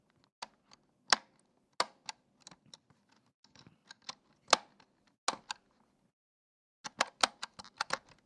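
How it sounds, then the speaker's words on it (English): Buttons on a cassette player pressed in a quick series of sharp mechanical clicks, some single and some in rapid clusters, close and fairly quiet, with a short pause midway before a final burst of presses. "That was the sound of the buttons on a cassette player."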